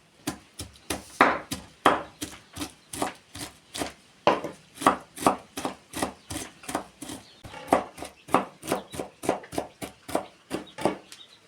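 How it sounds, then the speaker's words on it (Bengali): A knife chops cabbage into small pieces on a cutting board: about thirty crisp, evenly paced thuds in a steady rhythm, close and clear with no talking. "বাঁধাকপিটা এরকম আমি ছোটো ছোটো করে কুচো করে নিয়েছি।"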